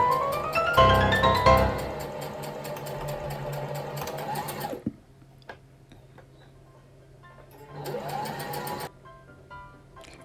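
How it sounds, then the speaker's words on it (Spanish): Sewing machine stitching patchwork fabric squares, running loudly in a steady whirring burst, then stopping briefly with faint ticks before a second, softer run. "2 cuadritos y solo cosiendo de un lado"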